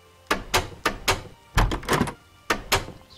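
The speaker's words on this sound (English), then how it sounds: "Iron door." Iron door in Minecraft, a video game, opening and closing repeatedly, giving a series of short, crisp mechanical clunks in uneven pairs, close and loud, with no talking.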